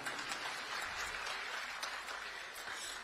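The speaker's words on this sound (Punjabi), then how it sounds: "ਇੱਕ ਵਾਰੀ ਆਪਣੇ ਆਪ ਲਈ ਜ਼ੋਰਦਾਰ ਤਾੜੀਆਂ ਮਾਰ ਲਓ।" An audience claps at a public address on land registration, a dense, steady burst of applause with no voices over it.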